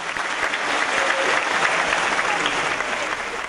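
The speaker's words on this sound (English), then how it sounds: "let's give all of our Gold Tassel recipients a round of applause" Steady, dense applause from an audience at the Gold Tassel Award evening honoring seniors, filling the room evenly and without letup, with no voices standing out.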